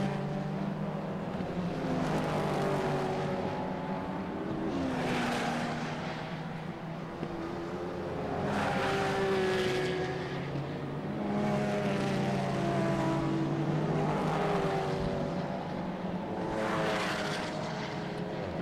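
Praga race cars in a Britcar Endurance Championship race at Oulton Park drone past as a layered, mid-distance engine roar that swells and fades in several waves, steady and fairly faint throughout.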